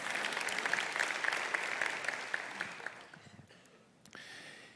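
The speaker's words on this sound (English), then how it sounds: "yeah, we can clap for that." A conference audience claps together, a dense burst of applause that tapers off over a few seconds before quieting.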